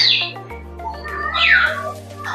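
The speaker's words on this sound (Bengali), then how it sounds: "পাখির ডাকটা দেখেন গাইস" A large parrot-like bird, roughly two to two-and-a-half feet long, kept at a park, gives harsh, sweeping squawks up close over a steady low mechanical hum, with no talk.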